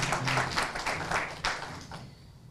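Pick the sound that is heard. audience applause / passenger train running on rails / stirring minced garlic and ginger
audience applause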